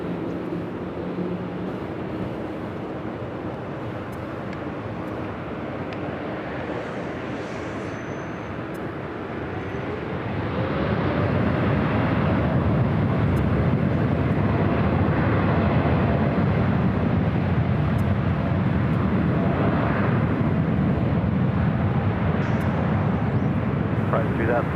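A Japan Airlines Boeing 787-9 Dreamliner takes off from LAX, its engine roar swelling partway through into a loud, sustained broadband rumble, with people talking over the early part.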